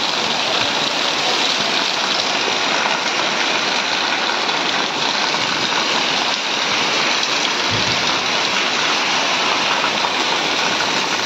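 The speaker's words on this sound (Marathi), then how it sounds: "माझ्या इकडे तर रोज संध्याकाळचा असा पाऊस चालू आहे" Heavy evening rain pours steadily in a summer downpour, a dense continuous hiss of water drumming on surfaces with standing floodwater, loud and close throughout with no voices.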